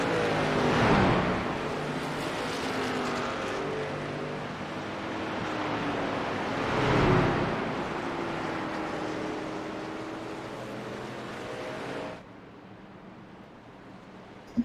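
Engines of a pace car and trailing race trucks at a truck series playoff race drone steadily, swelling twice as the field rumbles past, then the roar cuts sharply to a quieter background hum.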